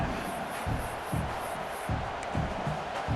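Stadium crowd in a college football video game, Miami Hurricanes at Texas A&M, a steady roar with rhythmic swells, heard in the distance behind the play-by-play.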